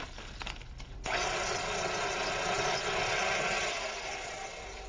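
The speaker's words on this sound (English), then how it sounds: "in they go for a quick whir, just to make sure there are no larger crumbs remaining" A food processor whirs steadily with graham cracker crumbs inside, starting abruptly and running as a dense, even buzz for several seconds before easing slightly, close and fairly loud with no talk.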